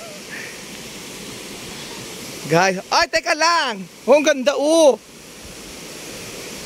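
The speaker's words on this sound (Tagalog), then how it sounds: "Malakas yung ilog," A strong, wide river rushes in the rain as a steady, loud broadband roar that runs through the whole stretch, with people talking over it in the middle.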